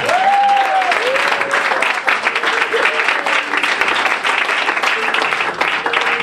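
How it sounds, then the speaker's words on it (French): A church congregation cheers and applauds loudly and continuously in a dense wash of clapping, with a few raised voices and whoops rising above the crowd close by. "Donc aujourd'hui, nous pouvons acclamer beaucoup plus fort que ça."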